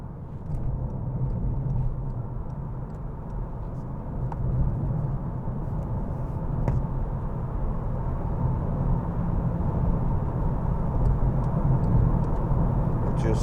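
A 2012 Volkswagen Golf 1.4 TSI Match cruises along the road at speed, heard from inside as a steady low engine and road rumble with tyre hiss, continuous and even.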